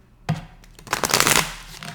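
Tarot cards shuffled by hand in a short burst, a sharp riffle of crisp card flicks building to a dense fluttering peak before tapering off, close and alone with no talk.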